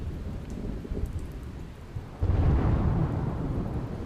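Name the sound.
heavy monsoon rain in Surat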